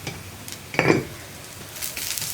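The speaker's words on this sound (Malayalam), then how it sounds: "ഇനി തേങ്ങയുടെ കളറ് മാറി വരുന്നത് വരെ ഒന്ന് ഇളക്കി കൊടുത്തുകൊണ്ടിരിക്കുക" Grated coconut with curry leaves and salt being stirred in a pan: a quiet sizzle with one brief clatter of a spoon against the pan, then soft scraping.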